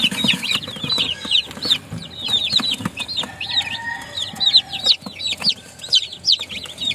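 Backyard chickens cluck and peep close by in a busy, overlapping flurry of short chirping calls and soft clucks, with occasional scratching and knocks in the background.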